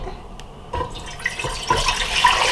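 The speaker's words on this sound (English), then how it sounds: "In goes all the water." Water pours into a pot set over heat, starting as scattered drips and splashes and building into a steadier, louder gurgling fill, close by and with no voices.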